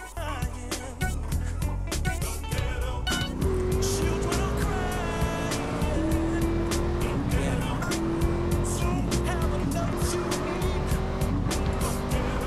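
Cars race through San Fierro in Grand Theft Auto: San Andreas, engines droning steadily with rising and falling pitch and sharp tire squeals cutting in, loud and continuous throughout.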